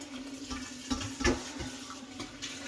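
Water runs steadily under a tap as chunks of deer heart meat are rinsed in a bowl, with a few soft splashes and knocks over the continuous flow and no talking.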